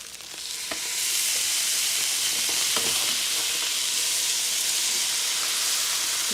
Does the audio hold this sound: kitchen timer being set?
no